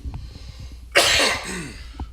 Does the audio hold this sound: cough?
yes